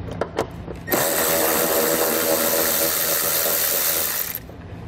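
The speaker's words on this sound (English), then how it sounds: "we'll get a 10mm socket and pull it out" A 10 mm socket on a power tool removes a tie-down hook from the trunk of a 2017 Infiniti: one loud, continuous whirring run of about three and a half seconds, close by, after a few faint knocks.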